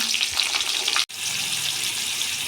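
Potatoes fry in a hot pan of cumin-tempered oil for a chicken curry, giving a steady, close, bright sizzle that cuts out for a split second near the middle, then resumes just as dense.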